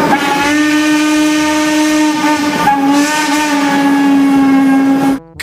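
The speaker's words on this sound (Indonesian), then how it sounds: "Wah, yang ini ada kereta api." A toy or cartoon train blows a steam whistle, sounding one long loud sustained chord with a brief break before the whistle continues and then cuts off abruptly.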